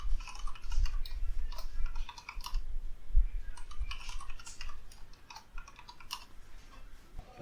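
Computer keyboard typing on a dedicated server console, with rapid irregular key clicks in bursts and short pauses, close and fairly quiet, no voices.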